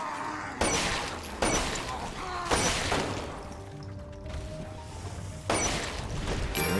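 Pistol shots in the zombie survival video game Umbrella Corps: four sharp, loud cracks spaced a second or more apart, heard without speech.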